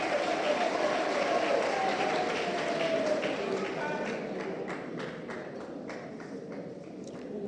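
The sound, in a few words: audience applause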